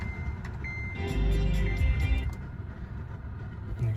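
A 2014-2018 Kia Forte with about 4,000 miles on its spark plugs cranks and starts, the engine swelling into a loud, rough roar before settling into a steady idle close by.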